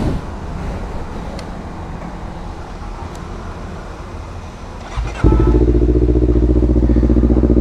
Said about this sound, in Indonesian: jadi sekarang kita akan coba motor Honda CBR tahun 2018 ini